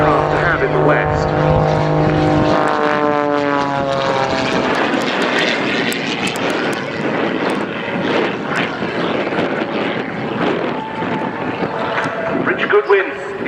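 Pitts Special aerobatic biplane flying a display at an airshow, its propeller engine droning loudly with a rising and falling pitch as it passes, continuous throughout with a commentator talking over it.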